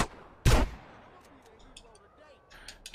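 A single loud gunshot in a GTA video game, sharp and close, followed by faint scattered game sounds and quiet background noise.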